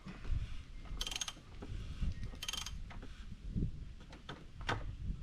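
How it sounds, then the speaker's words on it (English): A ratchet turns a 13/16 socket on a Dodge Durango during an oil change, giving two quick bursts of clicking followed by softer clicks and faint metallic knocks, quiet and close, with no talking. "Take your 13/16 socket. Put it down on there and just keep turning."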